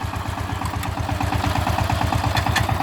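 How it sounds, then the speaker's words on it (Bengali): A 28-blade power tiller engine runs steadily at idle, a close, loud low-pitched chugging with an even rapid rhythm throughout, alone with no voices. "দেখেন আমাদের ইঞ্জিনের শব্দটা অনেক ভালো"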